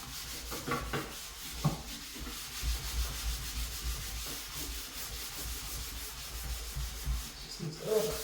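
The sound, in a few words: scrubbing paint off a bathroom sink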